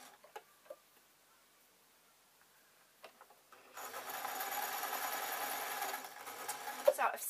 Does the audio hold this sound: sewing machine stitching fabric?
yes